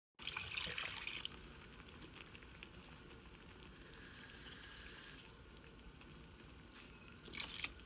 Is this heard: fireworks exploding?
no